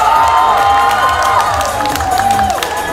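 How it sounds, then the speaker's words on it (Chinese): An audience at a Chinese singing contest final in Christchurch, New Zealand, cheers loudly for a contestant, with a dense, continuous wash of shouting and whooping voices at close range. "你们就给他欢呼"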